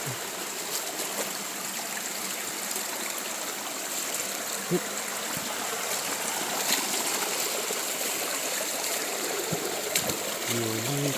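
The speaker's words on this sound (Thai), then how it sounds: "น้ำห้วยฮึบอยู่ด้วย" A forest stream flows in a steady, close hiss of rushing water with a few faint knocks and rustles, and a voice is heard briefly at the end.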